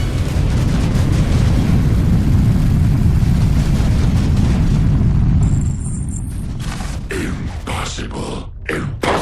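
A missile blast in the Tempest Rising video game: a loud, sustained roaring explosion rumbling for several seconds, then tapering into scattered bursts and debris crackles near the end.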